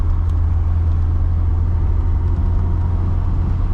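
A 2010 LADA 2107 with a 1.6-litre engine and manual gearbox drives on hilly roads, its mid-pitched engine rumbling steadily inside the cabin with a constant low drone and road noise.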